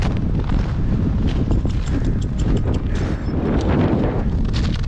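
Strong winter wind buffeting the microphone on a New Hampshire mountain summit, loud continuous rumbling gusts with some crunching steps, no voices.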